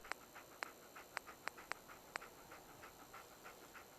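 Dogmeat the dog from Fallout 4 pants in quick, rhythmic breaths, with sharp clicks in the first half and softer huffs after, fairly faint and close, with no talking.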